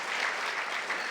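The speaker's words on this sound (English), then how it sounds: "So let me I'll take that round of applause too" Audience applause fills a gathering hall at an event with Georgia's attorney general, a steady dense wash of clapping from a crowd, continuous and fairly loud for the whole moment, with no talking over it.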